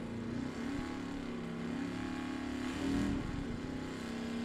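A Chevrolet Vega drag racing car accelerates down the strip at a Super Pro, Pro Eliminator and Sportsman drag racing event, a steady loud engine drone with a slight surge near the end, heard from a distance without talk.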